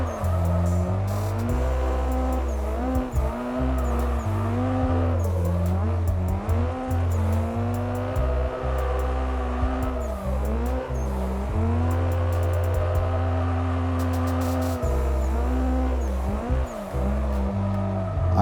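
Car in the Assetto Corsa racing game drifting in first gear near full throttle, a loud continuous high-revving engine note that rises and dips with throttle, mixed with steady tire squeal, no talking.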